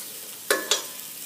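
Butter with pepper and garlic in a pan under a steady soft sizzle, interrupted by two quick scraping stirs close together, near and moderately loud, no voices.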